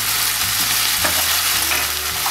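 Loud sizzle as soy sauce hits onion and capsicum frying in a pan for restaurant-style chilli chicken, with a brief stirring scrape midway, close and without voices.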